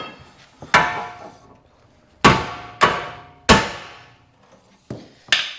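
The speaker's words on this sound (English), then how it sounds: "give the hub a really good knock with a hammer" A hammer knocks on the hub of a BMW 330Ci's tapered-fit wheel hub, giving six sharp, ringing metallic blows at irregular intervals, close and loud, each decaying briefly before the next, with no talking.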